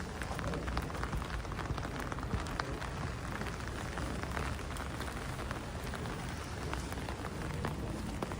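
Steady rain falls during a May walk through Toronto streets, a dense even patter of drops on surfaces heard alone and fairly soft throughout, with no talking.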